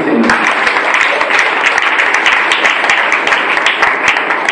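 A church congregation bursts into dense, loud applause that holds steady throughout, with some voices mixed in the clapping.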